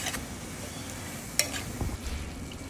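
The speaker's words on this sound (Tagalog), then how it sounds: "halo-haloin po lang po natin yan" Adobong sitaw, string beans with soy sauce and a little dried fish, is stirred in a pan: a steady low sizzle with a few soft utensil scrapes and one brief sharp clink, close up and alone.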